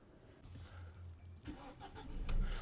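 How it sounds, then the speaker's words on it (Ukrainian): The 1.6 MPI engine of a 2008 Audi A4 B7 cranks and catches about halfway through, then settles into a smooth, rising idle rumble close to the microphone. "Автомобіль заводиться з півтику, не дримить, не троїть"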